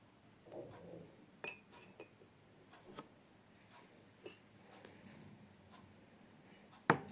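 A spoon clinks against a glass while scooping out a homemade experiment mixture, scattered sharp light ticks and clinks at an uneven pace, quiet and close, with one louder knock near the end.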